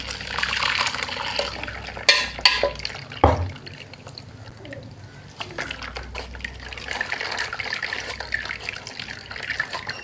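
Blended watermelon juice is strained, pouring and trickling in a steady wet rush with drips and a couple of sharp knocks from the strainer or container, close and fairly loud, with no voices.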